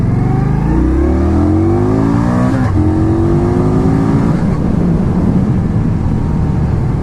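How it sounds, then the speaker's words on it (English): A 2016 Indian Scout cruiser motorcycle accelerates hard, the engine note climbing steadily through the gears with a brief shift break, loud and close throughout. "I wasn't expecting this bike to get up to speed that quick"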